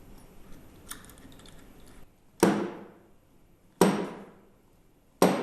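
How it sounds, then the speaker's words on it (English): Three sharp metallic clicks or taps, evenly spaced about every 1.4 seconds, as a screw is tightened to secure a centrifugal clutch on a motor spindle, with faint low clatter before them and no voices. "Secure it with the screw and tighten it."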